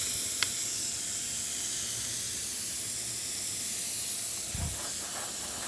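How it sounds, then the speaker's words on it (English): A freshly serviced La Pavoni espresso machine's steam wand hisses strongly and continuously at close range, with a brief click near the start and a low thump near the end. "Test the steam."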